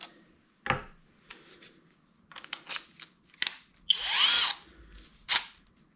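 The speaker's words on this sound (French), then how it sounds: "Je passe en mode perçage." A HOTO 12V brushless drill-driver in drilling mode with an 8 mm wood bit gives short bursts of whirring, then a longer rising whine as it bores, with clicks and pauses between runs.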